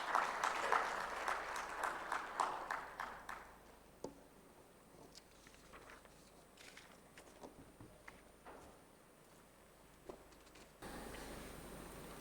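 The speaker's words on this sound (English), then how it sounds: "may we all please give him a round of applause as he walks up to the stage" A conference audience at a microfinance summit claps as a guest walks up to the stage, a brief burst of applause that thins quickly into sparse, scattered claps and quiet room noise.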